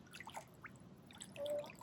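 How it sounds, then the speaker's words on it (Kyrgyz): A small freshwater stream fed by a waterfall on a Hawaiian island trickles softly, with scattered faint drips and gurgles over a quiet background. "Агын суу. Кичинекей дария."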